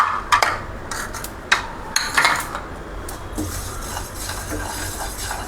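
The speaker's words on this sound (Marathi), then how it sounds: "आता आपण तीळ भाजून घेऊ." Sesame seeds dry-roasting in a pan without ghee over low heat, stirred with a spoon: scraping strokes and light clinks of metal on the pan recur irregularly over a steady soft background, close and moderately loud.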